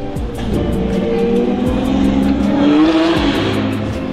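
A red Lamborghini Aventador S and a red Ferrari 812 N-Largo supercar idle and rev nearby in Monaco; the loud V12 engine tone swells into a rising rev near the end, then settles back to a steady rumble.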